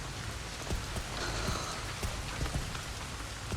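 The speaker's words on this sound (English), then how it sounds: "You can hear the rain against the windows" Rain pattering against windows in the horror video game Resident Evil Requiem, a soft continuous patter of drops with no voices.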